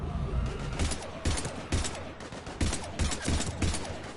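Rapid gunfire from the sci-fi shooter Mass Effect Legendary Edition, with repeated bursts of shots crackling throughout in a dense, busy firefight at moderate loudness.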